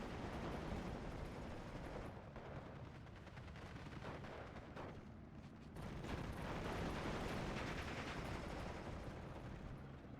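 Huge bomb explosions and battlefield gunfire in the WWII strategy game Steel Division, a continuous loud wash of booming blasts and rumbling fire that swells again in the second half, with no voices.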